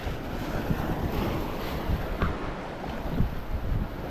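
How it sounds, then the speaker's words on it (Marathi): Strong wind roars over the sea on a cast-net fishing trip in rough waves, a steady, heavy rush with surf churning beneath it and wind buffeting the microphone. "आज वारा जाम आहे"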